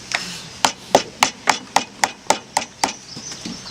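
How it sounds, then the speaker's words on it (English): Ten sharp hammer strikes land close and evenly spaced during clog making, each a crisp knock with a short decay, ending with quieter scraping. "I'm gonna need my hammer again."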